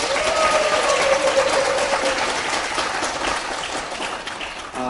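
A crowd at a Korean political rally claps and cheers when asked to show its enthusiasm. The applause is loud and rushing, with a raised shout near the start, and it eases slightly before cutting off abruptly.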